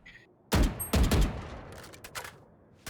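Rapid gunfire in a Valorant match as a player sprays through walls at opponents: two dense bursts of automatic shots close together, followed by scattered fainter shots trailing off.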